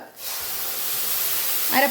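A sudden loud sizzle as ground fish-curry paste hits hot oil, hissing steadily for a couple of seconds, with a voice starting at the end.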